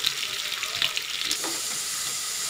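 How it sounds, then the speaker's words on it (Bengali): Potato pieces frying in oil over a medium flame for a fish curry, giving a steady loud sizzle with a few stirring clatters early on, then an even hiss. "এবার আমি আলুগুলো মিডিয়াম ফ্লেমে লাল করে ভেজে নেব"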